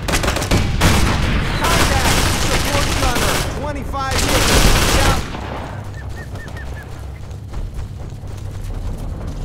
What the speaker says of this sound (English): gunshots feel louder, explosions sound more muffled if they're happening outside